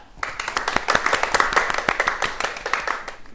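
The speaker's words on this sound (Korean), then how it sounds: "큰 박수로 맞아주시기 바랍니다" An audience at a university lecture on the metaverse welcomes the speaker with clapping, a lively burst of individually distinct claps at close range with a slightly uneven, bouncy rhythm and a few voices murmuring underneath.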